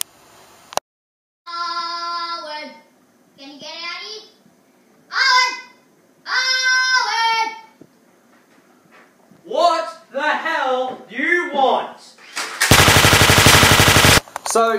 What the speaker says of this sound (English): the new rule is gunfire is outside the house, not inside the house